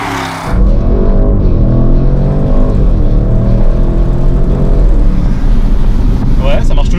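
An Audi RS6 Performance driving along a mountain road, its steady engine drone and road roar loud and continuous inside the cabin, with wind noise and people talking over it.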